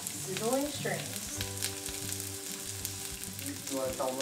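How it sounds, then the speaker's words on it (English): Chopped onion sizzles steadily in hot oil, a crackling hiss that continues throughout, with faint clinks and stirring near the pan. "So we're going to throw our onion in and cook about 5 minutes until it's translucent. Oh, that sizzle though."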